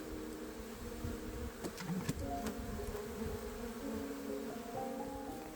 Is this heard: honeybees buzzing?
yes